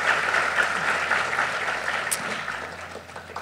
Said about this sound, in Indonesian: Tepuk tangan dulu dong buat Malaka Co-Founders.